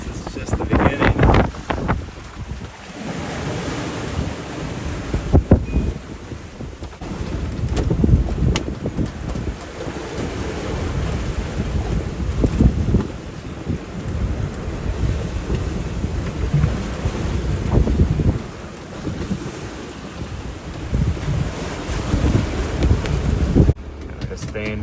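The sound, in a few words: strong wind and waves at sea seen from a sailboat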